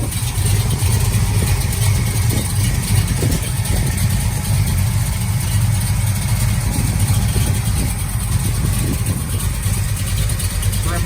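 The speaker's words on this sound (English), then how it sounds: "Dual exhaust, sounds really nice." A 1971 Plymouth Road Runner with Hooker headers and dual exhaust idles with a steady, deep low rumble, continuous and fairly loud throughout with no clear revving.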